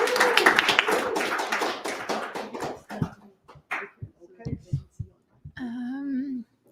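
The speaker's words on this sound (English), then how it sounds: "Let's give him a round of applause." A live audience at a Montréal Python programming meetup claps for an incoming presenter, a dense round of applause for about three seconds that fades into scattered taps and room noise, followed by a short voiced sound near the end.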